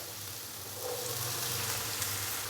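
Boiled peas drop into a pan of spices already frying, setting off a steady close sizzle that swells slightly louder after the first second and continues without talk.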